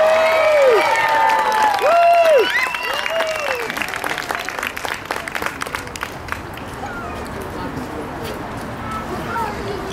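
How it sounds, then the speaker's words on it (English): Audience applause for the band at an Indiana Jones grand opening red carpet event, a loud dense burst of clapping with cheers that thins out over several seconds, with voices talking over it. "could we have one more round of applause for the band?"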